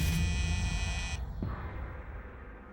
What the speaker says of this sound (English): started hearing the buzzer to the front door go off